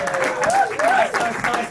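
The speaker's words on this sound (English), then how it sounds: "Give him a round of applause." A brief burst of applause rises from an audience at a live celebration event in Atlanta, dense clapping close and fairly loud, with a few voices mixed in.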